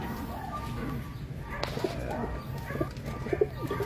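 Soft, low pigeon coos repeat several times close by over a busy background rumble.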